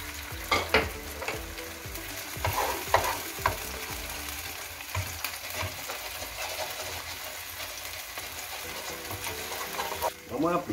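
Chicken breast frying in oil in a pan for pechuga a la marinera, a constant close sizzle broken by sharper bursts and scraping stirs, louder at the start and again at the end.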